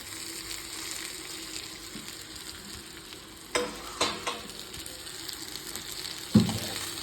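Fried cauliflower (gobi) pieces stirred through a pan for gobi rice, with a steady low sizzle and a few sharp spoon scrapes and taps near the end.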